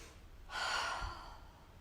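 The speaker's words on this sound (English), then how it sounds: "Find your breath. This is one that'll make you sweat. Big deep breaths." A single heavy, deep breath during an at-home strength workout: a loud broadband rush of air, drawn in and pushed out over about a second, close to the mic, with no talk.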